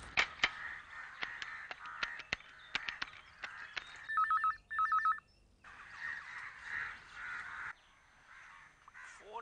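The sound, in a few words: telephone ringing unanswered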